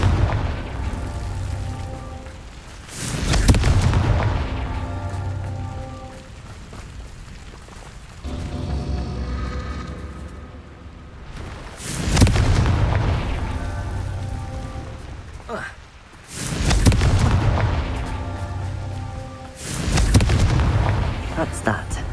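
Confringo blasting spells explode in Hogwarts Legacy: four or five heavy, booming bursts land several seconds apart over a constant rumbling game ambience.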